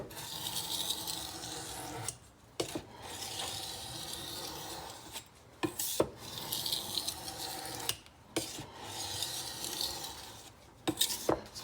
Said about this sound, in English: this is the fine stone, so it's going to have a different sound